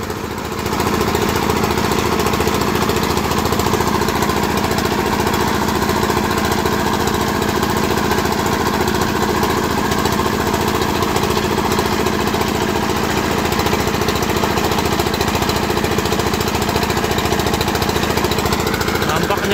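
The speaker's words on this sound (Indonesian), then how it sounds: "pengeborannya sudah masuk ke dalam besi raksasanya bosku ya" A drilling rig bores deep into the ground with a loud, continuous mechanical rattle and engine drone, steady and close throughout, with no breaks.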